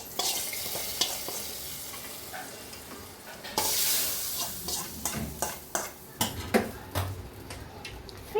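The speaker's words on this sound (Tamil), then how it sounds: "கருவேப்பிலை இதெல்லாம் போட்டு தாளித்து இதுதான் ஃபைனல் டச்சு மீன் குழம்புக்கு" Curry leaves are tempered in hot oil as the finishing touch for a fish kuzhambu. Quiet stirring breaks into a sudden loud sizzle, followed by repeated scrapes and clinks of a spoon against the pan.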